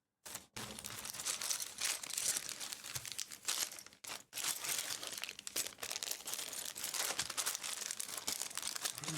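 Transparent paper packaging from a Lego set crinkles and crumples continuously, close and busy with a few brief pauses, no talk.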